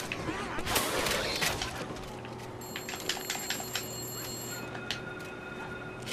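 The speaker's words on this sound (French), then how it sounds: "téléphone sonne." A telephone rings in the zombie shooter game Left 4 Dead 2, its repeated tones sitting over dense game noise with gunfire-like bursts and a steady low hum.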